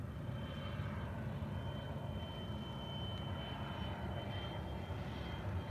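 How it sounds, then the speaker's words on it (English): A small jet aircraft passes overhead as a steady, broad, distant roar with a faint high whine, continuous and unchanging throughout, with no voices. "A little jet flying overhead."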